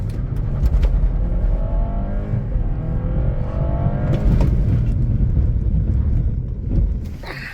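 A BMW 330e in Sport Plus mode accelerates hard from a standstill, its engine and road noise surging loudly inside the car with a rising whine over several seconds before easing off.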